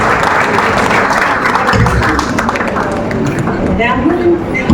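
Audience clapping welcomes a performer onto the stage at a community anniversary celebration skit in Mumbai, a dense steady patter of applause running the whole way, with voices mixed in.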